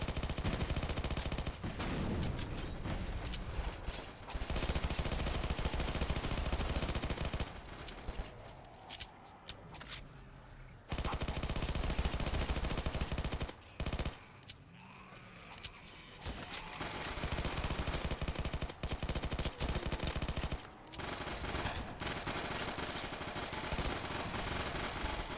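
MP7 gunfire in a video game comes in repeated rapid bursts with brief pauses between them, loud and close for most of the stretch, with no talking.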